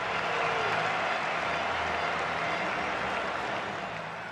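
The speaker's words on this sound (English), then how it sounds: "the noisy crowd in the Stade de France urged their" A large, noisy rugby crowd at the Stade de France roars in a dense, continuous wash of cheering and clapping that fades slightly toward the end.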